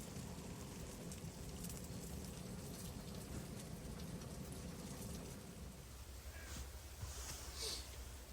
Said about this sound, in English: Another hard little shower coming down now.